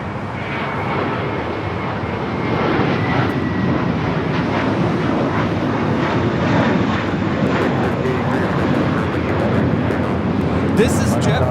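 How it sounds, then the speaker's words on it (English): A JetBlue Airbus A321 takes off from Los Angeles LAX for Boston, its broad engine roar loud and steady throughout and swelling slightly midway, with faint background voices. "This is JetBlue 388 taking off to Boston on the A321 Blue Carpet Treatment"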